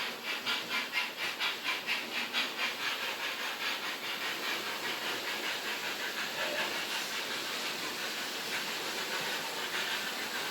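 A small model steam locomotive on a model railway chuffs in a quick, steady rhythm with a soft hissing texture, fairly quiet and close, the beats blurring together as it runs.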